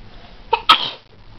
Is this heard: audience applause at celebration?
no